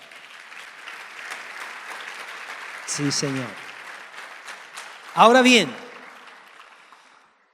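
A church congregation claps in a steady wash of applause while someone speaks over it twice, the clapping continuing throughout.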